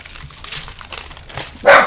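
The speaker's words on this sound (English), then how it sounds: "My dogs are barking." Dogs barking indoors, several short sharp barks and yips scattered through, ending in one loud close bark.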